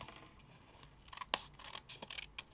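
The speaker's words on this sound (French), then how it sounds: "je vais couper à ras pour celui-là" Scissors snip through paper for a patchwork card in a few quick, close cuts, crisp and sharp against a quiet background with no one talking.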